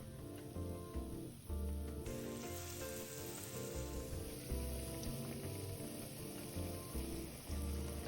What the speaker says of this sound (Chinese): 再將生坯裹上粉漿，直接油炸